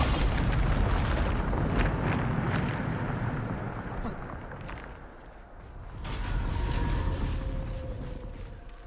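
A Bombarda spell explodes in Hogwarts Legacy with a heavy, rumbling boom that rolls and fades, followed by a second surge of blast noise and debris.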